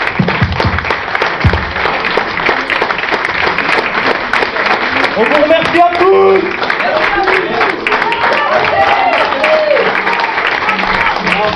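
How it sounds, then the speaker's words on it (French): A loud crowd applauds at a live event, with steady clapping running throughout while a voice speaks over it near the middle. "Un tonnerre d'applaudissements pour eux quand même."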